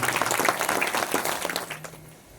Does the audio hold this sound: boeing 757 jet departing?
no